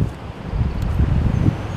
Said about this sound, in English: it's windy, sorry